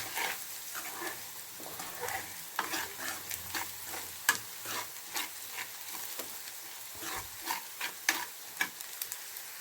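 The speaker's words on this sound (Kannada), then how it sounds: "ಇವಾಗ ಇದಕ್ಕೆ ರುಚಿಗೆ ತಕ್ಕಷ್ಟು ಉಪ್ಪು ಹಾಕ್ಕೋತೀನಿ. ಮಿಕ್ಸ್ ಮಾಡ್ಕೋಬೇಕು." A spoon stirs salt into sizzling vegetables frying in a pan for a Karnataka-style palya, with a soft steady sizzle broken by repeated scraping and clinking strokes close by.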